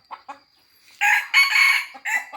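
Two quick clucks, then a rooster lets out a loud, close crow, followed by a short extra squawk.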